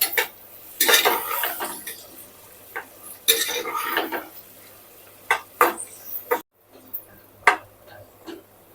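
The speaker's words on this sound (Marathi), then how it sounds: "आता हे कांदा कडीपत्ता आपण छान मऊ होईपर्यंत भाजून घेऊया" Onion and curry leaves sautéed in a pan, with repeated clinks and scrapes of a spoon against cookware over a faint sizzle, in irregular bursts with short quiet gaps.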